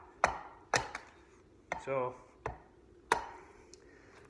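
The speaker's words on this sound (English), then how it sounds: "you're cutting and splitting when you're doing this" Axe blows chopping and splitting riven wood for an axe handle: five or six sharp, close impacts spaced irregularly, with a brief scraping rasp from the split around the middle, and one short spoken word.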